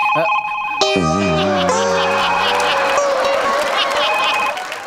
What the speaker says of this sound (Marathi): हा फोन घ्यायचा नाही, हे सगळं ठरवून चाललंय का?